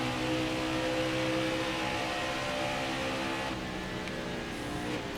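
A NASCAR Heat 5 race truck at Las Vegas produces a steady, loud engine roar with a droning buzz, holding near-constant revs throughout and easing slightly toward the end.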